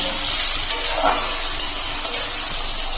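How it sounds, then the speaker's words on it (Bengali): Chopped onion frying lightly in a pan for a home-style chicken stew, giving a steady soft sizzle and hiss at moderate level throughout, with no talking. "পেঁয়াজটাকেও হালকা একটু ভেজে নেব"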